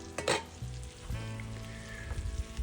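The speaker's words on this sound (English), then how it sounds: "I put the garlic in there because I want the garlic to slowly cook, not as fast as the fish" Garlic and chili ahi fish frying together in a pan, a steady close sizzle with a few louder crackling bursts and low clatter near the start, no voices.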